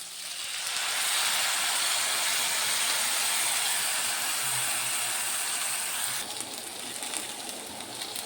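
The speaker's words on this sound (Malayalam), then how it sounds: "നമുക്കിതിൽ പുളി ഒഴിക്കാം" Tamarind water poured into a hot pan of sambar gives a loud, steady broadband hiss that holds for about six seconds and then eases slightly, with no one speaking.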